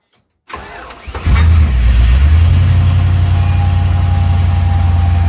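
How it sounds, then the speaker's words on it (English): A Chevy square body truck engine turns over and catches after a click, then settles into a loud, steady, deep cold-start roar with a slight rise as it is revved, close by with no talking. "Give it a cold rev. A good one."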